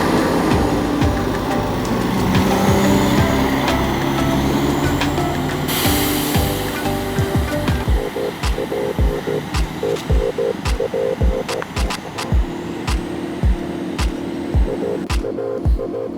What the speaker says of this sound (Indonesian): Ini dia bus tadi yang baru datang, ada Neo Patriot Air Suspension.